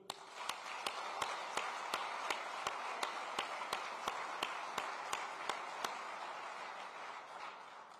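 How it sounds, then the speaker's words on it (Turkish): An audience at an award ceremony claps in a steady, evenly spaced rhythm over a soft wash of crowd noise. The claps are distant and faint, continuing for several seconds before tapering off. "sizleri ayakta alkışlıyorum"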